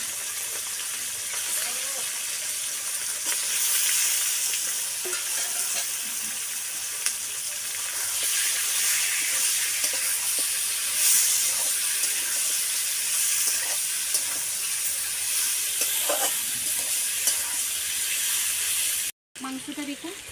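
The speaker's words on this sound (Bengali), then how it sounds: "এবারে এই তেলে আমি মাংসটাও একটু ভেজে নিই।" Chicken pieces fry in hot oil for a curry, a steady loud sizzling hiss that runs on continuously with a few faint clinks, then a brief dropout near the end.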